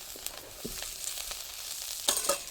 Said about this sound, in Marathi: आता हे सगळं आपण हलवून घेत असं कांदा आणि खोबरं सगळं आपल्याला हलवून घ्यायचं एकत्र मिक्स करायचं